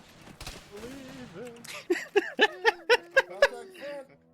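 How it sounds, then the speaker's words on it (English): A burst of about eight evenly spaced gunshots rings out in Arma 3 after some muffled talk and background game noise, loud and close. "All this gunfire."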